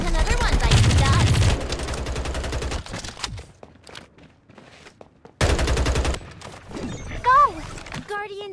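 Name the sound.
gunfire in the video game Farlight 84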